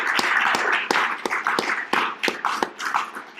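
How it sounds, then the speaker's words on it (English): An audience at a SZalon performance evening at Sydenham House claps in a loose, uneven burst, with distinct individual claps standing out from a thinner round of applause close by. "Let's give them a big round of applause"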